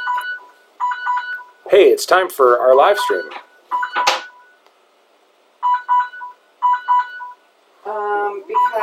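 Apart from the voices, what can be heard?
alarm going off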